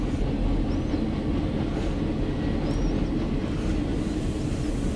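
A CSX mixed freight train carrying Conrail cars rolls steadily past nearby, with a continuous loud rumble and wheel clatter. Faint squeals rise over it, and no voices are heard.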